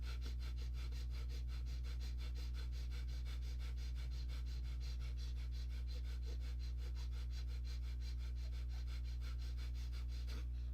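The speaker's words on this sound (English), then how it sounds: "Breath of fire. And go." Rapid, forceful nasal breaths of a breath of fire exercise pulse in a fast, very even rhythm from start to end, close-up over a low steady hum, with no talk.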